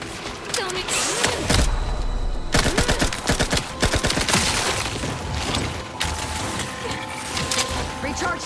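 Rapid bursts of sci-fi gunfire from The Outer Worlds 2 video game, dense, loud, near volleys with crashing impacts and mechanical clatter, sustained nearly continuously with brief pauses.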